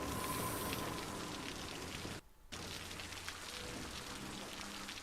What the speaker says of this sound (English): Can't believe it's raining again.